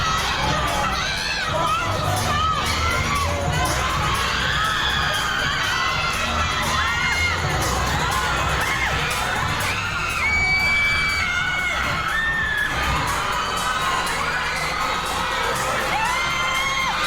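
A large crowd at an SB19 P-pop press conference screams and cheers continuously, loud and dense, with shrill high-pitched shouts rising above a steady roar throughout.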